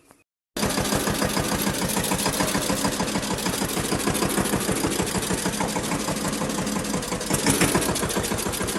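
After a brief quiet start, a tractor engine starts up and chugs steadily and loudly with a fast, regular knocking rhythm, close by and continuous.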